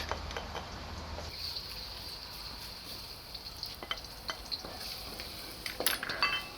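Garlic fries in oil in a pan for Thai pineapple fried rice, a steady close sizzle with occasional scrapes and clinks of stirring, growing busier toward the end, with no one talking.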